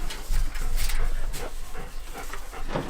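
A dog pants and snuffles close by in short, uneven bursts, with faint bird cooing in the background and no talking.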